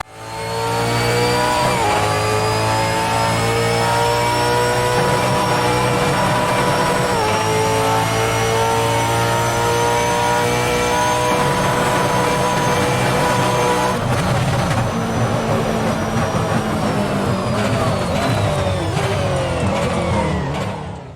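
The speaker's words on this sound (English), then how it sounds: "now let's try the V8 Supercars Holden" A V8 Supercars Holden race car engine in Assetto Corsa revs loudly and steadily for about twenty seconds, pitch climbing and falling through gear changes with a dense, harmonic roar and no talking.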